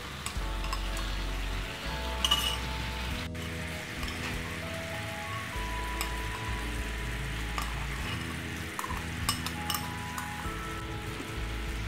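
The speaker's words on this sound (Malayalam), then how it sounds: "ഇത് നന്നായി മിക്സ് ചെയ്ത് കൊടുക്കുക. അപ്പോൾ ബബിൾസ് വരാൻ തുടങ്ങിയിട്ടുണ്ട് ഇതിൽ." A honey and tomato ketchup mixture bubbling in a pan with chicken, a soft steady sizzle under a low hum, with occasional clinks and scrapes of a stirring utensil, and no voices.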